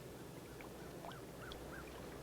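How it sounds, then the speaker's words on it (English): Ducks and geese call faintly across open water during a hunt, a few distant quacks and honks scattered over a steady low background hiss. "Hunting ducks and geese."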